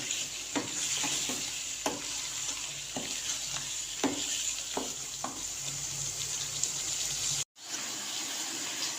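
Potatoes cooking in a coarse tomato paste in a pan for achari aloo katliyan, a constant hissing sizzle with occasional spoon scrapes and taps, close by, with a brief cut to silence near the end and no talking.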